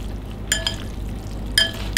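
Homemade noodles stirred in a hot pan give two short bursts of scraping and clinking against a steady low sizzle-like hiss, close and moderately loud, with no talking.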